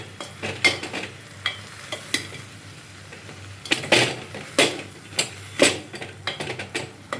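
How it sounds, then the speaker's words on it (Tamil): Onions sautéing in oil in a pan for a tamarind okra curry, heard as a soft sizzle broken by sharp, irregular clicks and scrapes of a spoon stirring against the pan. "கொஞ்ச நேரம் எண்ணெயில் அப்படியே வதங்கிட்டோம்."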